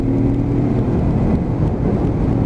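Lexmoto LXR 380cc motorcycle engine running hard, a loud, steady, close-up drone with a continuous rumbling roar that holds level throughout, with no speech over it.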